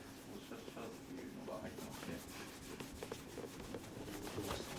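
Rhythmic soft rubbing of a flannel cloth wrapped around fingers, polishing a German leather shoe; steady brushing strokes, close and quiet, with faint background noise and no talking.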